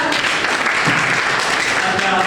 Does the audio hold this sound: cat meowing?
no